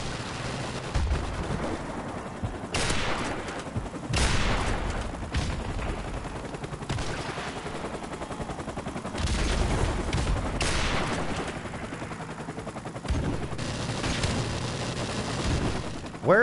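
Rapid gunfire in the video game Modern Warfare Remastered, dense overlapping bursts and loud booming shots that go almost without pause, with a voice talking faintly underneath.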